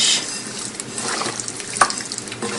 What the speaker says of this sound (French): Et vous continuez à remuer